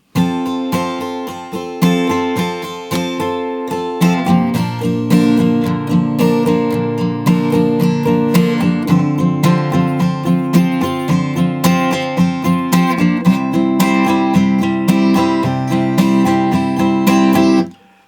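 Guitar strumming the chord progression of the verse, a steady, full-sounding rhythm of close, loud chords that runs throughout before ringing out at the end.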